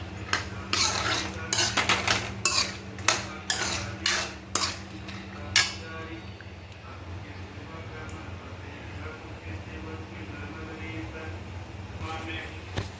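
Spices for besan laddoos are roasted in a pan in a home kitchen, with a run of sharp metallic clinks and scrapes of a utensil against the pan over the first half, then a quieter low hum.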